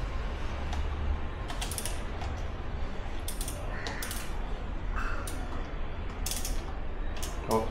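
Screws being loosened on the accelerator wire assembly of an auto-rickshaw during maintenance, heard as faint ratcheting and creaking clicks scattered over steady background noise, with no talking.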